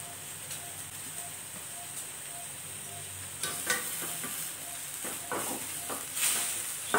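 Lentils being sautéed in a pan for coriander chutney give a steady gentle sizzle, joined partway through by several scraping stirs that grow a little louder toward the end.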